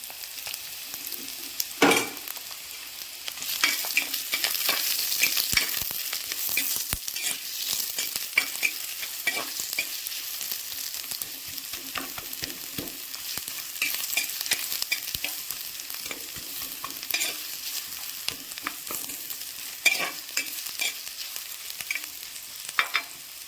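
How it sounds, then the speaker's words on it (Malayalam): Sliced onions frying in a pan as the base for a coconut milk fish curry, a constant close sizzle broken by frequent scraping stirs throughout. "നമുക്ക് സവാള ഇട്ട് കൊടുക്കാം. വലിയ ഉള്ളി, സവാള ഉള്ളി ഇട്ട് കൊടുക്കാം."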